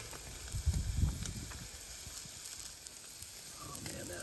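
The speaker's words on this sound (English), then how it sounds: "Man, it's already searing up." Ribeye steak searing on a Giantek PatioToy hibachi grill over white oak, a steady close sizzle and hiss with a few soft crackles and handling thumps.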